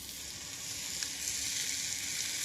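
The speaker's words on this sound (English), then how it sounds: "Then just put the meat in, wait for the sizzle" Meat browning in a hot casserole pan, a steady bright crackling hiss that holds evenly throughout.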